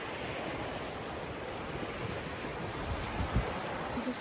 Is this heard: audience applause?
no